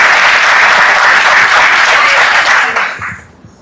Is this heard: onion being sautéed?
no